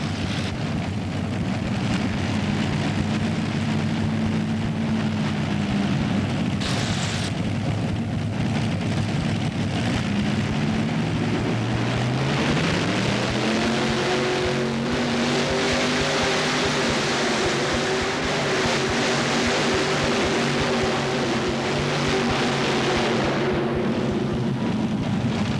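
A two-wheel-drive pulling tractor called Seismic Express roars steadily through a full tractor pull run at an indoor arena event, its engine pitch climbing partway through and holding loud and continuous to the end.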